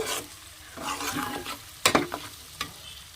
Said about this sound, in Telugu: దొండకాయ ముక్కలు టమాటాలు అయితే వేగినాయండి.